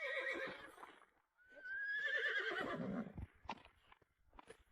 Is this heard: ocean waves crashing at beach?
no